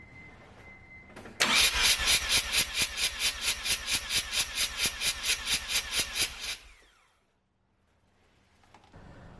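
A Mazda RX-7 FD rotary engine cranks on the starter during a compression test, a loud, even run of about twenty rhythmic pulses lasting roughly five seconds before stopping, with a faint hum before and after and no voices.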